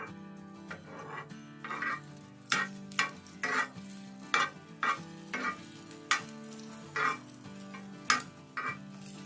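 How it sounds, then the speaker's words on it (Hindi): Beaten egg frying in oil on a hot tawa, stirred with a utensil: a steady sizzle broken by repeated rhythmic scraping strokes, close and clear, with no voices. "अंडे को डाल के थोड़ा सा हम हिला देंगे इस तरह"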